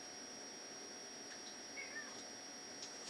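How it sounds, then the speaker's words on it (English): A house cat gives a few faint, brief meows in the background during an online chess stream, over a quiet steady hum with a thin constant tone. "Streaming Cat jumps on the keyboard and tries to resign for me but misses the key"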